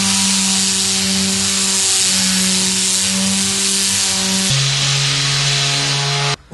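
A sander buffs the first coat of polished concrete applied to an old table, a loud, steady motor whine with a continuous abrasive hiss that shifts pitch partway through and cuts off abruptly at the end.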